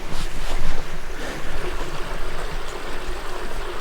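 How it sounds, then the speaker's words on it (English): Water rushes over the ground along a stream on Dartmoor, a loud, churning wash with gusty rumble throughout, and no one speaking. "I can hear water."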